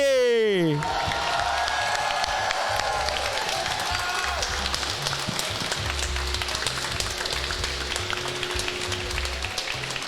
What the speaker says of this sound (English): let's give another round of applause to everyone in the top 8